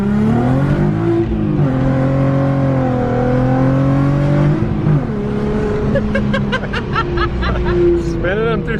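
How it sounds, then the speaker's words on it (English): A VW Golf MK2 with a 24v engine revs hard and pulls through the gears from inside the car, the engine note climbing and dropping at each shift, loud and close, with occasional laughter and voices. "Spinning them through second, grabbing third."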